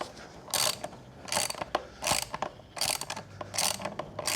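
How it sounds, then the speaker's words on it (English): A 13mm socket on a ratchet loosens a bolt on a KTM 690 Enduro R motorcycle, giving about six close, crisp bursts of rapid ratcheting clicks with short pauses between strokes. "this size is 13mm socket to get that main bolt off"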